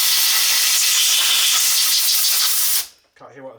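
Compressed air from an airline blasting a cleaning-fluid-soaked Harley-Davidson starter motor, a loud steady broadband hiss lasting almost three seconds before cutting off abruptly, followed by brief speech.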